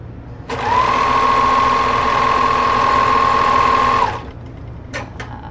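A serger sewing machine runs steadily for about three and a half seconds while serging the armpit seams of a Qing Dynasty–inspired qipao wedding dress, a loud continuous whir that stops cleanly, followed by a couple of faint clicks.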